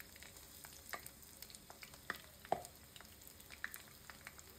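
Sliced onions frying in soybean oil until crisp and browned, a faint, thin sizzle with sparse scattered crackles and pops close by.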